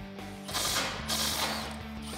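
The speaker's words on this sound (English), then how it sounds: "I'm gonna use a 14 millimeter deep socket, and I'm also just gonna use a small extension in order to give myself some room." A ratchet driving a 14 mm deep socket on a small extension loosens bolts from the crash bar of a 2016-2021 Toyota Tacoma during a front bumper install, giving a steady, close run of rapid mechanical clicking with no talk.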